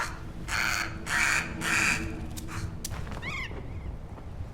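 Crow cawing in the Amerzone video game: three harsh, drawn-out caws in steady succession, followed by a few soft thuds and quieter chirps. No talking.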